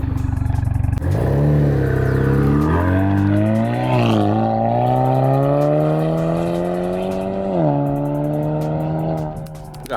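A Cadillac ATS 2.0 turbo with catted downpipe and straight pipe exhaust revs hard, its pitch climbing in repeated pulls with shifts between them, loud and close throughout.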